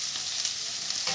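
Chicken sizzles and fries steadily in a pan, a dense close hiss with faint stirring scrapes and no voices.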